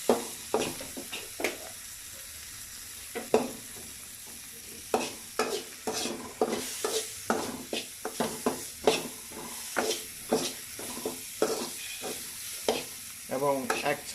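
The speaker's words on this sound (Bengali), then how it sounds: "1 চামচ হলুদের গুঁড়া দিয়ে নেড়ে দেব।" Chickpeas for a spiced chole bhuna are stirred with a spoonful of turmeric powder in a frying pan, with a soft sizzle under a steady run of scraping, clacking spoon strokes in an uneven rhythm.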